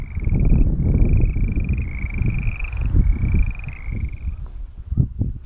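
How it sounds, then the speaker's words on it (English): Frogs call from a small pond on a grassy plain, repeated trilling bursts carrying over steady low wind-like rumble and outdoor noise, moderately loud and close. "Can you hear the frogs?"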